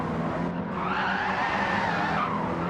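A race car slides sideways through the first corner at Brands Hatch during a Mini race, tyres squealing in a sustained rising and falling howl over loud engine and track noise, close and continuous.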